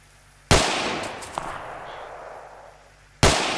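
Mortar shell impacts in the Arma military video game: two sharp, loud blasts roughly three seconds apart, the first trailing into a long rumbling decay with faint debris crackle.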